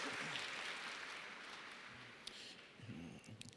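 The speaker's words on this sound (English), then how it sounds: "Give yourselves a round of applause." An audience applauds at a Big Brothers Big Sisters community impact award event: a soft, steady wash of clapping that thins out and fades, with a voice starting near the end.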